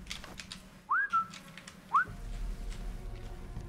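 A game character in Sniper Elite 5 whistles to lure enemies: two short rising whistle notes about a second apart, clear and close over quiet background ambience.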